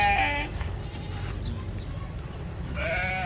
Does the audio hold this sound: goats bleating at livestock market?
yes